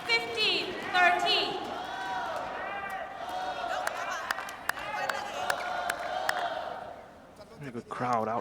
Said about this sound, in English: Crowd out here as well on this Saturday.